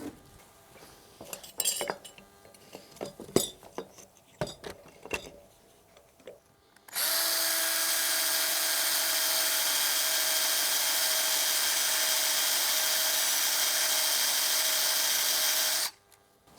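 A power drill bores into steel at a workbench during a wheelbarrow repair: scattered metallic clinks and handling knocks come first, then a loud, steady nine-second drilling whine that stops abruptly.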